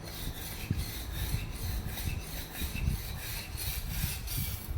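A metal file rasps along a knife blade, smoothing the steel while repairing the tip and reprofiling, making steady rhythmic back-and-forth scraping strokes, close and moderately loud with no talk.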